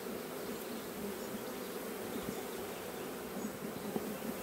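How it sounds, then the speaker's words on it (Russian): A dense, continuous hum of many honeybees buzzing close by at the hive in May, steady and even throughout. "пчела уже как заливает нектаром рамки"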